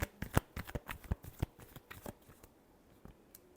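Tarot cards being shuffled at close range, a quick run of crisp riffling slaps that thins into softer, scattered flicks toward the end, with no talking.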